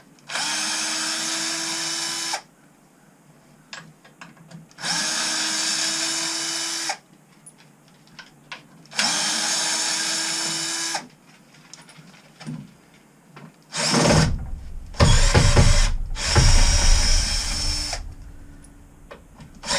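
Power drill backing screws out of a wooden platform bed in a school bus RV conversion, several loud, close whirring bursts of about two seconds each with pauses between, ending in rougher, louder grinding.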